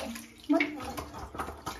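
Water runs and splashes into a bathtub as a child gets a bath, with an uneven gurgling flow and a voice in the background.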